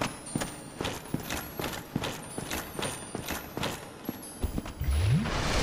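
Steady clip-clop of horse hooves in a regular trotting rhythm, close and moderately loud, with ambient sound from Dark Souls Remastered underneath.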